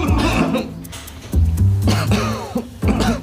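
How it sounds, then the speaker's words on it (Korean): A man lets out a few dry coughs and throat clearings, close and loud, in short separate bursts with pauses between them. "마른 기침을 뱉더니"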